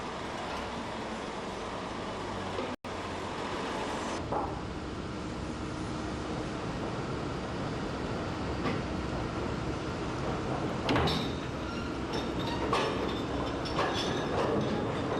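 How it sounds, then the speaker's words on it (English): Peat railway wagons pushed along by an under-track mechanical propulsion system near a tippler: a steady, close rumbling roll with occasional clanks and clatters, and no voices. "an under-track mechanical propulsion system takes over"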